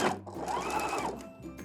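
A sewing machine stitches the fold of bias tape around the armhole of a DIY shift dress, giving a steady, close whirring run that eases off briefly near the end.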